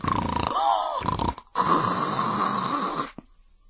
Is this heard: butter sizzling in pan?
no